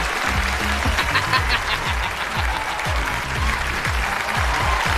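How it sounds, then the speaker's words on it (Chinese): An audience claps after a song at a live comedy and music show, with dense, sustained applause filling the room and steady clapping throughout, close and loud. "谢谢， 掌声鼓励。"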